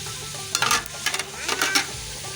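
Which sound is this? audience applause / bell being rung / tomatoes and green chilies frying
tomatoes and green chilies frying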